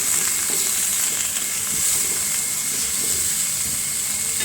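Okra sautéing in a pan gives a steady, close sizzle and hiss with faint stirring scrapes, holding even throughout with no talking.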